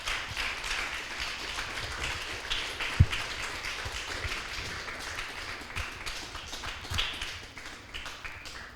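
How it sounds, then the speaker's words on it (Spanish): A church congregation gives a round of applause during a sermon, soft scattered clapping heard at a distance with a few sharper taps and a low room murmur throughout. "Denle un fuerte aplauso al Rey"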